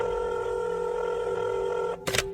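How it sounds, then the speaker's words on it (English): A phone number being dialed, with steady tone bands running for about two seconds before a short burst of noise at the end. "she grabbed her phone and dialed a number"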